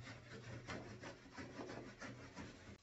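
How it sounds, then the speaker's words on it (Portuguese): Cloth rubbed briskly over an old wooden picture frame to polish a patina wax finish, a continuous close rasping scrub with rhythmic back-and-forth strokes, quiet and alone. "agora eu vou vir com um paninho esfregando, ó, dando lustre, tá?"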